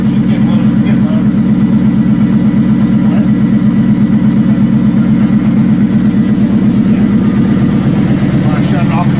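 A restored car nicknamed Pauline running at its first start, the engine idling steadily and loudly with a rough, pulsing mechanical throb that holds constant throughout.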